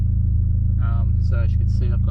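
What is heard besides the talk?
Mitsubishi Lancer Evo X car engine idling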